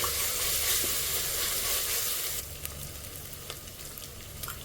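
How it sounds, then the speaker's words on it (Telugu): Ginger garlic paste frying in a pan with okra for bendakaya pulusu, a loud continuous sizzle with scraping stirs that eases partway through, close and steady with no talking. "ఇప్పుడు వేగిన తర్వాత 1 టీ స్పూను అల్లం వెల్లుల్లిగడ్డ పేస్టు వేసి కలపాలి. పచ్చి వాసన పోయే వరకు కలపాలి."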